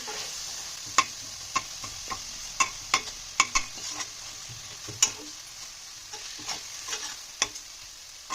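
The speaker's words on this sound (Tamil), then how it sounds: "தக்காளி நல்லா வதங்கட்டும்" Tomatoes sauté in a pan for a homemade chicken curry, a soft continuous sizzle broken by a dozen or so sharp spoon taps and scrapes at uneven intervals, close by with no talking.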